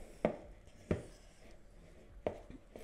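A fork works peanut butter cookie dough for Christmas cookies, making three sharp taps against the bowl at uneven intervals over faint soft mixing sounds, quiet and close.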